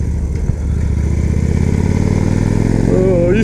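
A motorcycle engine revs after a gear shift, a loud, close, steady mid-pitched drone that climbs in pitch toward the end.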